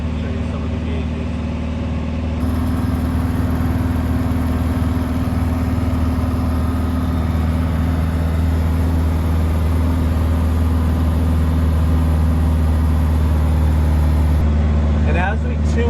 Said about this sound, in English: We're just sitting, letting the engine warm up.